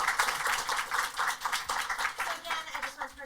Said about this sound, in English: Can we get a round of applause for our